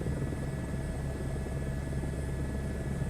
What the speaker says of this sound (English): now I remember why I don't like flying helicopters